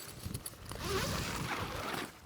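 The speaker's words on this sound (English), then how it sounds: "go ahead and close your zipper door up" A tent's zipper door being pulled closed during setup of a Seek Outside Redcliff 2.0 hot tent outdoors: a brief rustle and fabric handling, then a continuous raspy zip lasting over a second, close and moderately loud, with no talking.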